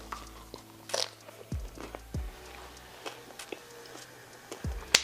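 Someone bites into a vegan carnitas taco in a tortilla with jalapenos, giving several soft crunchy bites and moist chewing up close, irregular and fairly quiet.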